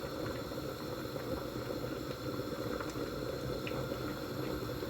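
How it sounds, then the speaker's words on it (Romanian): A cup and a half of water heats in a small kettle on a stove, giving a steady, even rushing and bubbling hiss that stays constant throughout, with no talking. "Punem o cană jumate de apă la fiert într-un ibric."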